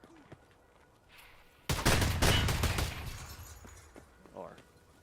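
A loud burst of rapid gunfire erupts in Escape from Tarkov, with dense overlapping shots lasting about a second before tailing off into quieter game ambience and faint clatter.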